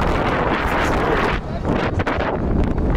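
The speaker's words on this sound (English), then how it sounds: "it's very windy" Strong wind buffets the microphone in loud, rumbling gusts at a cricket stadium in Pakistan, with a voice faintly mixed into the roar.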